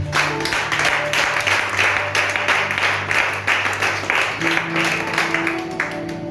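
A church congregation at a worship service claps and cheers in praise, loud, continuous applause with sustained organ or keyboard tones beneath.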